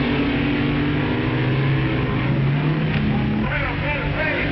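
The Dragmaster dragster launches off the line in a drag race against a rival car, a loud raw engine roar that shifts pitch midway, recorded in old film sound with a narrator talking over it.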